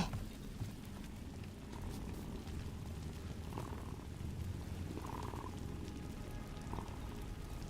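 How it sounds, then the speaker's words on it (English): A cat purrs softly in the Dragon Age The Veilguard video game, a low continuous rumbling purr under faint ambient game sound, with a few brief brighter chirps. "You can hear him purr."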